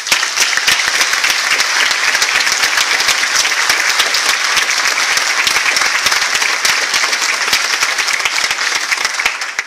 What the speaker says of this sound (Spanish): para quien pido un fuerte aplauso